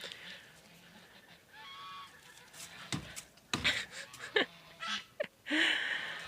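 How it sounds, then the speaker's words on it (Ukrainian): Geese in a Ukrainian village honking as they fly off, a series of loud, irregular nasal honks and wheezy calls rising near the end, with some breathy sounds mixed in. "полетіли гуси"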